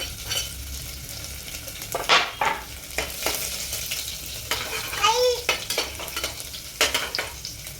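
Garlic frying in a pan with whole spices such as bay leaf, cardamom and cloves, a close sizzle broken by several scraping stirs and clinks of a spoon, with no talk.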